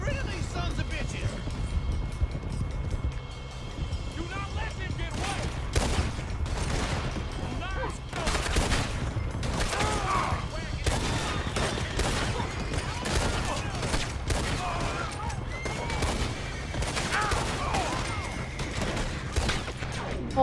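Gunfire in the video game Red Dead Redemption 2, a dense rapid fusillade of shots and impacts throughout, with people talking over the shooting.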